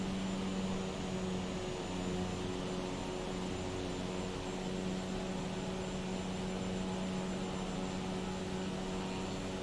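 A steady, fairly quiet engine drone from an aircraft in Microsoft Flight Simulator 2020, lining up to land at an Alaskan airstrip near Yanert Glacier in poor visibility, holds evenly without any talk.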